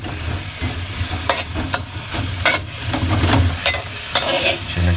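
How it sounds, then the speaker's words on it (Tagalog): Onions sautéing in a pan for menudo, a steady close sizzle of frying with repeated scraping stirs breaking through at irregular intervals, no voices. "Madali naman po maluto ang sibuyas"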